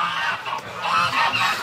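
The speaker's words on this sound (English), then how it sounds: "just the geese freaking" Geese honking loudly and close by, a continuous overlapping chorus of raspy calls that rises and falls in waves.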